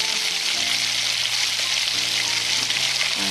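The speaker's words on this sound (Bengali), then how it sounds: "আর সবজিগুলো ভাজা চলছে" Potato, carrot, capsicum and pointed gourd fry in a pan with a loud, steady sizzle that stays close and even, with a few soft stirring knocks underneath.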